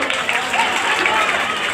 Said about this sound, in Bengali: রিপন ভাইয়ের জন্য একটা করতালি চাই।